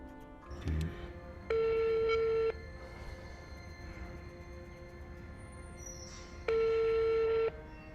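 An unanswered telephone call rings in two steady, moderately loud tone bursts of about a second each, separated by several seconds of quiet line hiss, with no voice answering.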